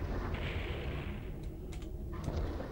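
Rocket launcher shots and explosions from the shooter game DOOM 64 form a dense, rumbling barrage with a few sharper bursts near the end, steady and loud throughout.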